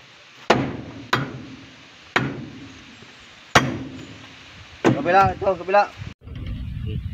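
A machete (itak) blade struck against a nail in several hard, separate blows, each a sharp loud metallic clang with a short ring, followed by a voice speaking briefly and more knocking.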